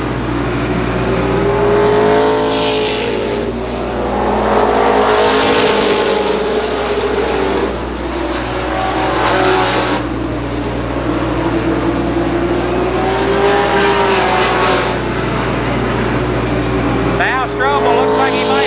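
Race cars roar around Columbus Motor Speedway at a 1995 season opener, a continuous loud engine drone rising and falling as cars pass, with an announcer talking over it.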